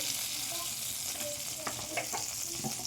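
Oil heating in a kadai before chicken gravy is started gives a steady close hiss of sizzling, with a few light taps and crackles scattered through and no talk.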